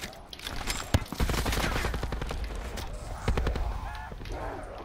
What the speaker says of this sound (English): I put some VMP bullets in him.